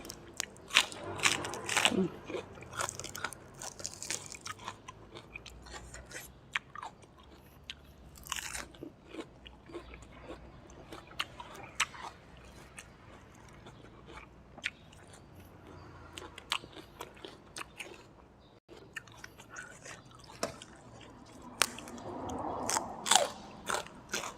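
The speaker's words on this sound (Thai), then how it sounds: "ผักเบบี้คอสกรอบๆเล้พี่น้อง" Close, crisp bites and chewing of crunchy baby cos lettuce, eaten with a Thai-Lao meal of spicy pounded long beans with fermented fish sauce, fried chicken and grilled pork; repeated crunches throughout, with occasional talk.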